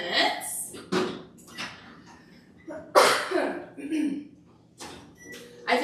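A person coughs several times in a home kitchen during a live cooking session, with sharp, abrupt bursts spaced a second or two apart and close to the microphone.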